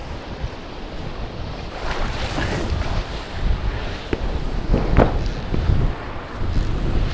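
Wind gusts across the microphone at Tonel Beach in Sagres, Portugal, a broad steady roar with surf rumbling underneath and a few louder buffets, no voices.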